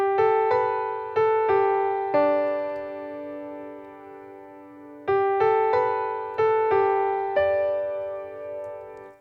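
A MiniGrand virtual piano in Pro Tools plays dry, without effects: clean sustained notes and chords struck in two phrases of repeated attacks, each decaying smoothly, with no voices.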